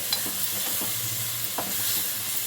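Tomato dry fish curry stirred in a pan, soft scraping strokes recurring every half second or so over a steady low sizzle of oil, close and moderately loud, no voices.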